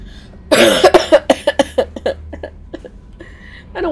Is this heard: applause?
no